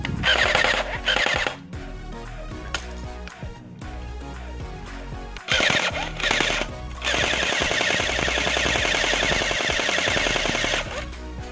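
A cheap Chinese G3 BB gun, held one-handed, fires at a beer can about five metres away, producing loud bursts of rapid mechanical shots with short pauses between them.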